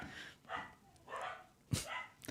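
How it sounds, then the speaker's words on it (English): Dogs bark in a few muffled, distant bursts indoors, irregular and fairly faint. "Apologies about my dogs going mental"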